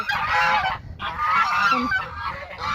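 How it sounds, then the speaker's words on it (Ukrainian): Geese honk loudly and continuously at close range, several harsh overlapping calls with a brief pause near the middle. "Ось ідуть гуси"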